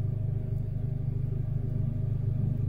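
Low, pulsing engine drone from an older Honda Civic heard from inside while driving, a steady throbbing rumble at constant revs with no talking.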